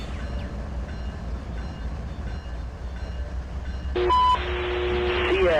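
Long coal train of about 10,000 feet rolling through Appalachian coal country in the Trainz railroad simulator: a steady low rumble and clatter, with electronic beeping tones joining louder near the end.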